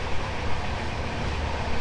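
Steady, loud, broadband rumble of a long-distance train heard from inside a carriage on a Siliguri to Puri journey, continuous and close, with no clear clacks and no talk.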